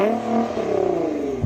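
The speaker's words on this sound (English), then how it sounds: "Let's hear the last car, the 650 horsepower one." A tuned 650-horsepower Nissan GT-R engine revs hard, its pitch rising in a loud, throaty sweep with a crisp exhaust note, close by and with no voices.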